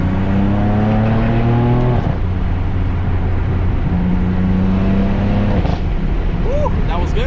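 BMW M4 fitted with an AWE SwitchPath exhaust in Sport Plus mode, its engine droning loud and steady as revs climb through two gear changes, the note rising and dropping again, recorded close from on board.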